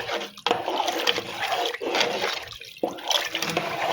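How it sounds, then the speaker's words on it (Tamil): Water pours and splashes steadily into a cooking pot, a continuous rushing stream with a few brief breaks. "தேவையான அளவு தண்ணி ஊற்றிடுங்க."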